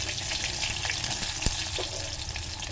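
Cumin and mustard seeds crackle in hot oil in a pan, a close, continuous sizzle with a single sharp tap partway through.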